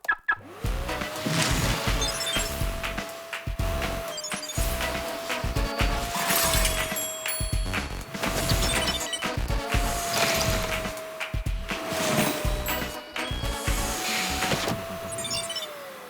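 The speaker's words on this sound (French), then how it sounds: "Aspirateur dernier cri totalement autonome." A fully autonomous, latest-model robot vacuum cleaner runs during a demonstration, giving a steady motor whine that holds for most of the stretch over repeated clattering and knocking noises, with no speech.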